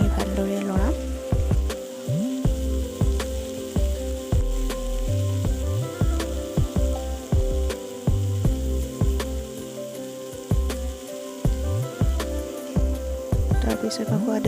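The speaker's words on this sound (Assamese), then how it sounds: "ভাজি হোৱাৰ পিছত মই ফুলখিনি দি দিলোঁ আৰু এইখিনি ভালদৰে লৰাম।" Flowers fry and crackle in a pan of oil, a continuous sizzle under a loud, low, irregular rumble, with occasional stirring scrapes.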